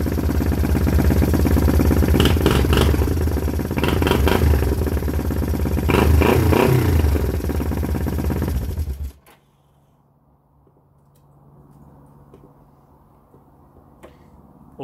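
A Honda CL350 motorcycle kick-started and running, with a loud, rapid, clattering engine beat lasting about nine seconds before it cuts off abruptly, leaving near silence with a faint low hum.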